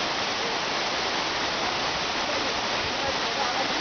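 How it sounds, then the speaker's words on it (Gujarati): Chimer waterfall in Dang roars as a loud, unbroken rush of falling water, a thick steady wash of noise close at hand that fills the whole moment with no clear voices over it. "આ ધોધનો અવાજ."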